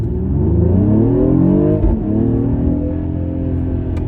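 A Mercedes-AMG GLE 53 SUV engine revving hard in Sport Plus mode as it accelerates, the pitch climbing steadily, dropping briefly at a gear change, then rising again, loud and close.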